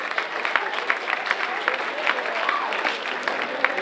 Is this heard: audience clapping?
yes